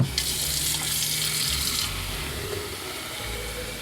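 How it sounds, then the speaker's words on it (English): Water pours steadily into a Razorri 1.7L digital electric kettle, a bright rushing splash for about two seconds that then thins to a quieter trickle and settles, close by with no talking. "add some water inside first"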